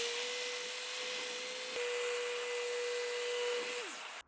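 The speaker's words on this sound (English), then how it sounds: "Like when you're sanding a big rough sawn beam like this and you want to get down to a nice smooth surface." A Festool ROTEX 150 multi-mode sander running on a rough sawn wooden beam, a steady high whirring drone with an even motor tone held for about four seconds before winding down at the end.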